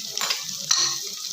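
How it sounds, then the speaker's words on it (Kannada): Green peas frying in oil with softened tomatoes for a spinach pulao, stirred in the pan: a steady close sizzle with scraping stirring strokes, no voices. "ಇವಾಗ ಹಸಿ ಬಟಾಣಿ ಹಾಕ್ಕೊಳ್ಳೋಣ. 2 ನಿಮಿಷ ಚೆನ್ನಾಗಿ ಎಣ್ಣೆಯಲ್ಲಿ ಫ್ರೈ ಮಾಡ್ಕೊಳ್ಳೋಣ."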